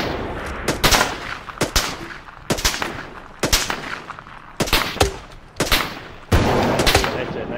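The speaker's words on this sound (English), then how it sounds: "Rebel shooting at us." Rebel gunfire in the military video game ArmA 3, with repeated bursts of rifle and automatic fire crackling in clusters throughout, some shots sharp and close, others echoing, with no talk over them.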